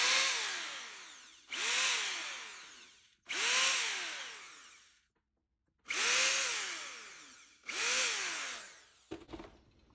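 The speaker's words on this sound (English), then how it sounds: "I'm just going to use this little drill bit to drill some pilot holes" A small drill bit bores pilot holes into a framing piece for a mosaic, the power drill spinning up in five separate whirring bursts, each rising then winding down, close and moderately loud.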